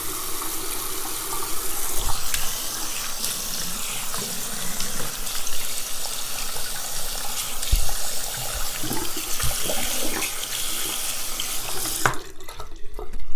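Tap water runs steadily into a sink during a rinse of makeup swatches and stain off skin, a continuous close splashing stream that stops abruptly near the end.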